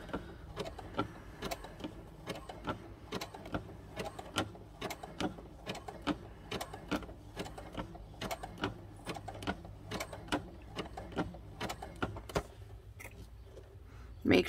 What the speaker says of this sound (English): You're just wrapping the fabric around the rope and then stitching.